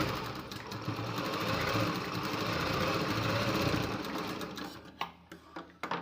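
A sewing machine runs steadily for about five seconds while stitching blouse fabric, a dense mechanical whir, then stops and gives way to short stops, starts and clicks.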